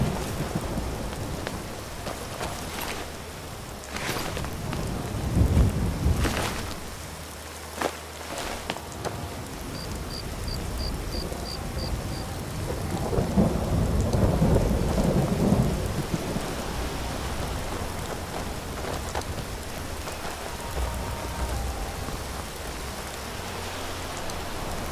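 Thunderstorm with rain in the video game Skyrim: steady rainfall on surfaces throughout, with several loud rolling thunder claps and rumbles rising and fading across the stretch, no talking.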